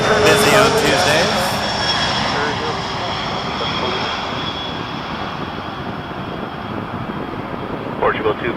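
Jet airliner engines roaring steadily at Toronto Pearson airport, a loud broad rumble that slowly fades, with radio chatter and talk over it.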